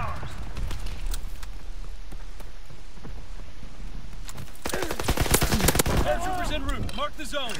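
Grease Gun submachine gun fire in a World War II battle game set in Egypt: distant scattered shots first, then a loud, rapid burst of automatic fire, followed by further echoing gunfire.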